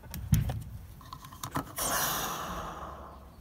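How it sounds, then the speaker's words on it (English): A rushing hiss of air drawn into the fuel tank of a BMW E60 M5 with a blocked charcoal canister when the gas cap comes off, starting after a few faint clicks and slowly fading, close and fairly quiet. "your gas tank gasping for air"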